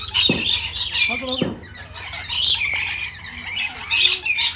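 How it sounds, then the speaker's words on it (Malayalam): Loud, harsh squawks of a colorful parrot in Thailand repeat close by, with sharp screeching calls over a background of other bird chatter. "ഇവിടെ ഭയങ്കര സൗണ്ടാണ് കേട്ടോ ഈ തത്തമ്മേൻ്റെ നല്ല മനോഹരമായ സൗണ്ട്"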